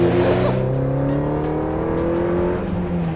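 An Ariel Nomad engine revs up loudly and climbs in pitch as it accelerates, a rising harmonic drone held close for a few seconds.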